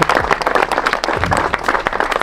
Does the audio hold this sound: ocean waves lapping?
no